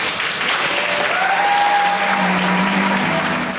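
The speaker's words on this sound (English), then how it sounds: "Please, let's give a round of applause" Steady, dense applause from an audience at a high school 50th anniversary gala, honoring a recent retiree, sustained and loud throughout with a faint tonal voice or whistle-like sound riding above it.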